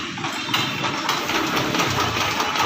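A Nissan D33 diesel engine runs steadily with its exhaust, a continuous rough mechanical drone that stays close and even throughout, with no talk.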